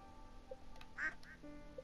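Cartoonish duck quacks from the farming video game Stardew Valley, a few short soft calls over quiet game background music.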